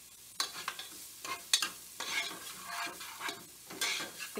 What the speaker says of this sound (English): I'm going to be adding the carrots.